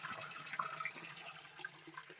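Quiet, continuous trickle and gurgle of spring water flowing through pipes, steady and close, with no talking.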